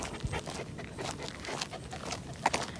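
A 10-month-old puppy pants in quick, steady breaths, close by and fairly quiet, with faint shuffling in the background.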